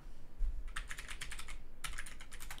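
Rapid keystrokes on a computer keyboard as a website address is entered, two bursts of close, crisp clicking separated by a brief pause, with no talking.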